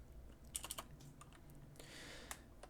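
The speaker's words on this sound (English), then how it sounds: "so I type in vertices right here." Short run of keystrokes on a computer keyboard while writing shader code, a few faint clicks in quick succession followed by a softer rustle and one more tap, quiet and close with no talk.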